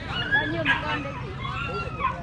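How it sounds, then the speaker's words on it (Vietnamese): Two black dogs at Bac Ha market in northern Vietnam give short whimpers and yips close by, mixed with ongoing talk and market chatter. "Bác đây cầm hai con chó đẹp nhỉ. Đây, hai con chó đen các bạn,"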